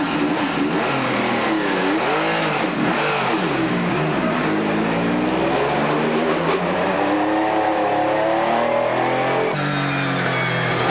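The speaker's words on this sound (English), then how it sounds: "get underway in a Class 1 touring car, the most sophisticated racing car currently racing anywhere in the world" An Opel Calibra DTM Class 1 touring car pulls out of the pit lane onto the Hockenheim short circuit, its engine loud and close, revving up and down through gear changes in sustained rising sweeps.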